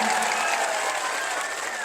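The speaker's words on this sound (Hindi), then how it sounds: "एक बार कस के ताली बजा के अपना अपना स्वागत करिए, जोरदार ताली बजा के" Dense, steady applause from a large crowd at an outdoor political rally in Bihar, continuous and loud throughout with a faint murmur of voices underneath.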